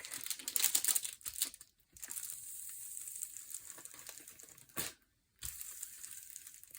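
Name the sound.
peeling back release paper on a canvas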